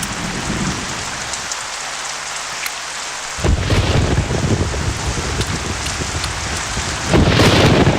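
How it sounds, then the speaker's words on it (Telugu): Heavy rain pours steadily outside with rolling thunder, a dense, loud roar that swells sharply partway through and again near the end, with no voices. "బయట వర్షం ఎక్కువగా పడుతున్నట్టుంది."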